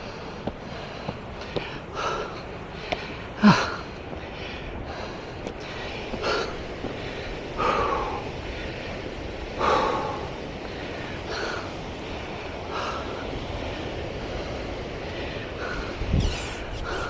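Heavy, ragged panting and gasping breaths repeat every couple of seconds, close to the microphone, after a steep climb up to a lighthouse, with wind and outdoor background noise.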